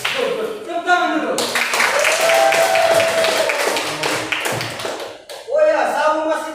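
Students in a classroom break into a burst of clapping that lasts a few seconds, with a teacher's voice heard before and after.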